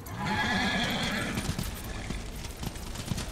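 A horse in the video game Darksiders whinnies loudly in a rising, shaky call, followed by hoofbeats clopping and scattered clatter.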